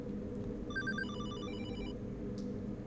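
A phone ringtone chimes in the Hollowbody video game, a quick run of bright electronic tones rising and repeating for about a second over a low, steady ambient rumble.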